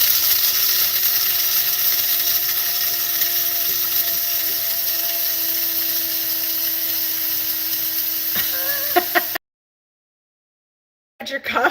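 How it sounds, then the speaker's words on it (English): Coffee beans being ground for French press coffee in an electric grinder, a steady high whine running unbroken for about nine seconds before cutting off abruptly, followed by near silence and a brief rustle. "I'm about to grind up the beans."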